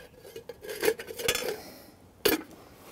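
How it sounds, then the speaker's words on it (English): A metal lid goes back onto a camp oven over campfire coals, giving a few clanking and scraping metallic knocks and then one sharper clink near the end, close and fairly quiet against faint background noise. "So get the lid back on"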